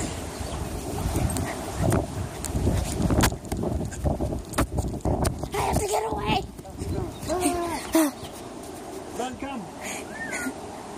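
Dogs on a Colorado trip give short whimpers and yelps, with a rising whine toward the end, among nearby human voices and outdoor bustle.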